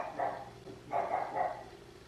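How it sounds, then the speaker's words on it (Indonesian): Dog barking indoors in a home, three bursts of barks in quick succession at moderate distance, with no talking over them. "oh, itu anjing aku lagi gonggong."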